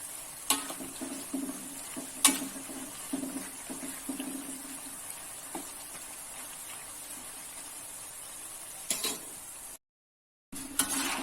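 Sweet banana slices fry in oil for banana chips, giving a steady, moderate sizzle with occasional sharp stirring clinks and scrapes and a brief gap of silence near the end.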